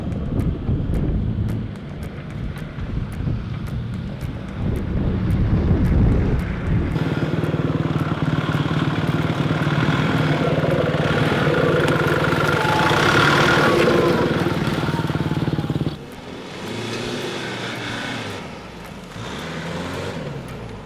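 A GU Nissan Patrol engine idles steadily with a low, continuous hum and rough wind buffeting, the tone shifting and quieting near the end.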